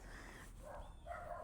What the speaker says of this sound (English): If you can hear the dogs in the background, that's not my dogs.